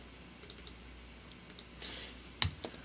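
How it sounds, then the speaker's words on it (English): Scattered key clicks on a computer keyboard while typing a URL, a few faint taps and one sharper click near the end, quiet and alone. "Why type a URL"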